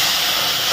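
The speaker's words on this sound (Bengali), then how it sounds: "এবার দিয়ে দেব দুধ" Milk hitting a hot pan of fried vermicelli, a brief loud burst of hissing sizzle and steam with no voices.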